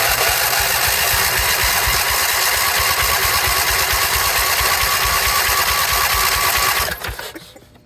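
A Husqvarna yard tractor engine that had been sitting unused for 10 years runs loud and close with a fast, steady chatter, then quickly cuts out and dies away near the end.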